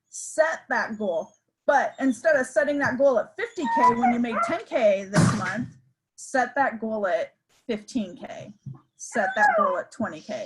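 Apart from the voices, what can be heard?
puppy whimpering and yipping at a window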